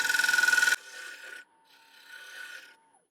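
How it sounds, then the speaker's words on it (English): Woodturning tool shear scraping the edge of a spinning mulberry live-edge winged bowl on a lathe. It starts as a loud rhythmic rasping, then gives way to softer scraping strokes close by, with no voices. "So I'm just doing a little shear scrape."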